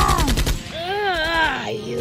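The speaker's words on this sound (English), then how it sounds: "They shot him dead." Rapid burst of gunshots in a plush toy action film, a quick run of sharp cracks in the first half second, followed by a tonal sweeping sound.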